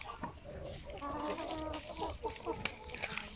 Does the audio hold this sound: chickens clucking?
yes